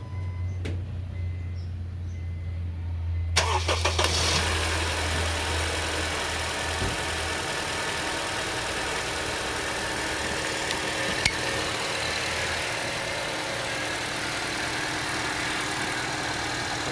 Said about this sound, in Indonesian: kita nyalakan mesin kurang lebih sekitar 5-10 menit